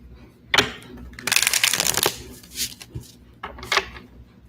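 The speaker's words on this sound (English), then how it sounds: "let me shuffle the cards" Tarot cards being shuffled by hand, a short flick followed by a longer riffling burst and a few quieter taps and slides, close and crisp, with no talk.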